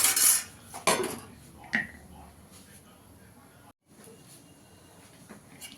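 A metal lid clatters onto a pan of cooking chicken, with a loud clank and a few lighter knocks of cookware, followed by a quieter low hiss; a voice talks in the background.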